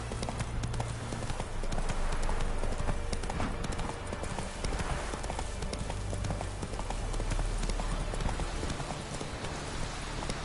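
Roach gallops steadily through The Witcher 3 on Death March difficulty, the hooves drumming in a fast, continuous rhythm. The hoofbeats sit over a constant loud wash of ambient noise like rain.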